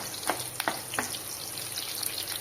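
Peeled garlic sautéing gently in sesame oil over a low flame, a soft continuous sizzle broken by a few quick scraping and stirring strokes, close and moderately quiet.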